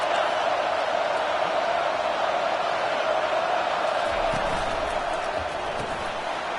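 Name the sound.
stadium crowd cheering at Michigan football game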